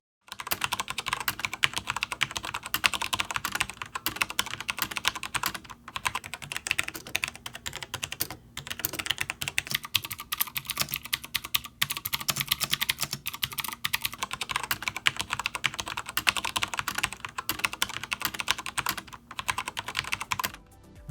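Continuous fast typing on a HyperX Alloy Elite mechanical keyboard with Cherry MX switches, dense loud clacking heard up close for about twenty seconds with no talk.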